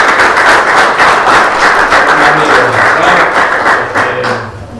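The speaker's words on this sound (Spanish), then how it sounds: "Fuerte el aplauso" Loud, steady applause from an audience at an event gathering, dense clapping filling the whole stretch and tapering slightly at the end.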